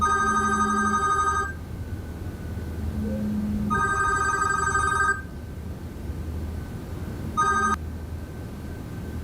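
A telephone rings in three electronic bursts with pauses between them, loud and close, the third burst cut short.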